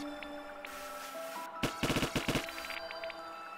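A cannon in the game Wall World fires rapidly, a quick run of about eight sharp, loud shots over a steady mechanical hum.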